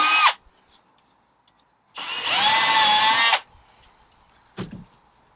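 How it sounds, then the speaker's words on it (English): A power drill whirs briefly, then runs steadily for about a second and a half pre-drilling wall cladding in a van conversion, close and loud, with short tool clicks before and after. "I am pre-drilling so I don't split the cladding"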